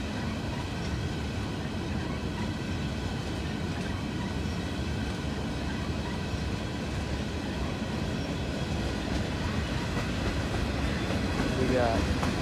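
Norfolk Southern freight train with a DPU locomotive rolling past, a steady close rumble and wheel noise that holds for the whole stretch, with faint squeal near the end.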